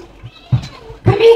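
A cat gives two short, close meows with a brief gap between them, while a person talks nearby.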